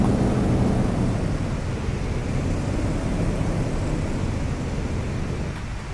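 A FW-190 A-8 fighter's piston engine in DCS World, throttled back to idle, gives a steady, loud low rumble that holds throughout and eases slightly toward the end, with no talk.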